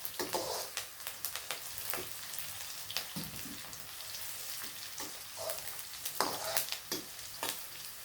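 Onions sautéing in a pan for a prawn curry, a crackling sizzle with frequent spoon scrapes and stirs, close and moderately loud, and no one speaking.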